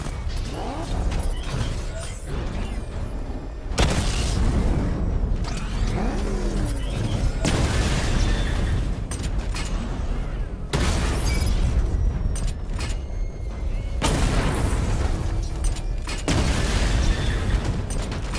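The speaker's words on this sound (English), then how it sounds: "Charge the missile barrage to level 2 to destroy up to 4 targets at once." Missile barrage explosions in the Batman Arkham Knight video game, with repeated loud booms and crashes in bursts alongside rumbling vehicle engine and mechanical noise, several blasts spaced across the stretch.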